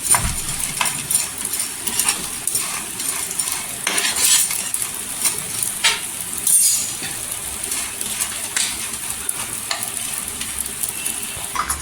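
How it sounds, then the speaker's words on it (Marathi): Pieces of edible gum (dink) fry in hot ghee, a close, continuous sizzle broken by spoon stirring and occasional clinks against the pan, with no talking. "छान असं तेलावर फ्राय करून घ्यायचं, नाही तर तूप टाकलेलं आहे, तुपात फ्राय करायचं."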